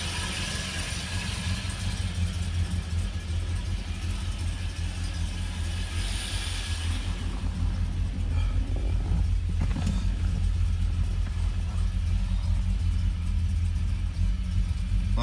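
Ford Ranchero engine idling on its first start of the year, a steady low rumble with faint mechanical clatter and a slight rise in the middle, heard quietly and continuously without talk.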